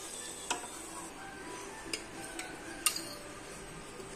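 A spoon scraping fried cashews and raisins out of a pan into a bowl, with a few sharp metallic clinks spaced apart over faint background hiss.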